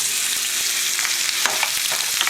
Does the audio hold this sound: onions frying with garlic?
yes